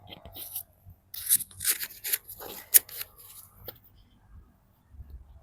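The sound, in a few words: clipping a wireless lavalier mic onto a shirt collar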